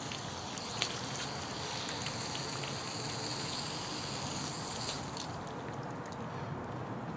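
Water pressure rushing out the open end of an expandable X Hose, a continuous hissing spray with a steady, even texture throughout.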